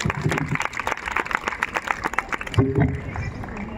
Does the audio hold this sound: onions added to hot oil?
no